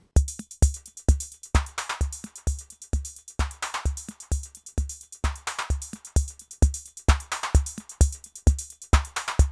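Accented kick drum pattern from a Eurorack drum module, a steady electronic groove of punchy low thumps with periodic brighter hits and hi-hat ticks, alone and dry.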